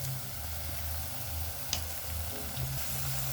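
Chili powder goes into hot oil in a pan for dal fry, making a soft, even sizzle that runs throughout with one faint tick midway, close but quiet.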